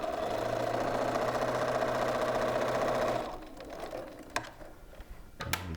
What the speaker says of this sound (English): So let's just sew this last seam.